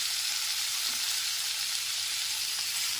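Chopped capsicum and peas frying in a pan over a medium gas flame, a steady close hiss and crackle of sizzling oil with no talking.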